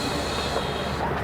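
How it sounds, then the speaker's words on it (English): Steady rumble and rattle from inside the 741 train out of Sacramento, a constant loud onboard rail noise for the whole stretch, with no clear speech. "Right now I'm sitting on the 741 train to"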